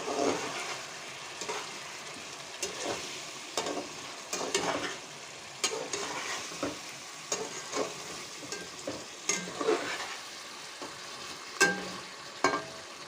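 Jackfruit curry ingredients sizzle steadily in hot oil while a spatula stirs and scrapes the pan in irregular clacks, close and continuous with no voice.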